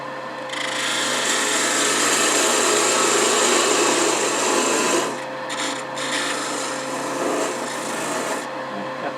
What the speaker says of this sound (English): I think the easiest way to do that may be just to use a parting tool.